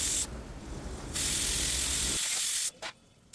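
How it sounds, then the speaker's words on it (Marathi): A pressure cooker boiling potatoes vents steam in loud, rushing hisses that cut off abruptly and restart, ending in short sputtering bursts. "कुकर लावून कुकरच्या 4 ते 5 शिट्ट्या करून घ्यायच्या आहे"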